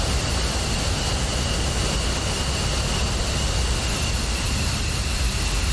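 A jet engine nozzle roars in the DCS flight simulator with the canopy gone: a loud, dense, unbroken rumble with a high whine holding steady throughout.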